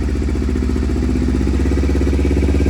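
A Kawasaki Ninja 250 idles with a Yoshi R77 slip-on exhaust, silencer fitted, giving a steady, loud, close low throb with an even pulsing rhythm and no voices.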